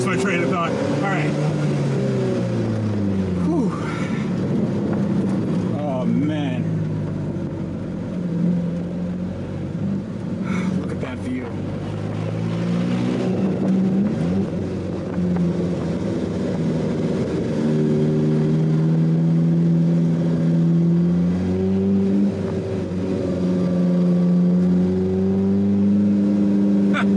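An Alfa Romeo 4C Spider with a 1.7 liter turbocharged engine accelerates hard, engine tone rising and falling through repeated gear pulls for nearly half a minute, loud and close as if from inside the car.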